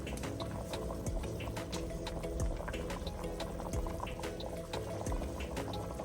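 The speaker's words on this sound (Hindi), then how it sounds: "पानी उबल रहा है चावलों का" A pot of salted water with a chicken stock cube rolls at a vigorous boil before rice goes in, with dense bubbling, popping and gurgling that stays close and steady throughout.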